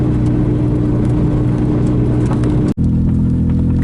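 An old beater car driving down a gravel road, a continuous close interior rumble of engine and tires with a brief dropout partway through.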